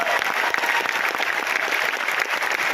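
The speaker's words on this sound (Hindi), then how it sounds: "जोरदार तालियां" An audience at a Mi Lifestyle company event applauds Crown Diamond Rajesh Yadav, with dense, steady clapping from many hands that stays loud and even from start to finish and has no voices over it.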